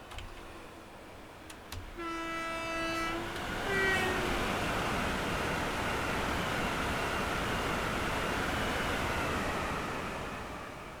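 A Class 805 train in Train Sim World 5 sounds a two-tone horn blast, then a steady loud rush of rail and running noise that swells and holds, with no talking.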